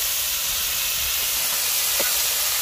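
Fresh mushrooms drop into a hot pan of gravy in a village kitchen, setting off a steady, loud hiss of sizzling that runs unbroken and close throughout.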